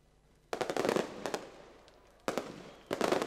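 Fireworks crackle and bang in rapid clustered bursts at an outdoor drift competition event, three loud volleys of popping explosions with a fading rumble between them, fairly close.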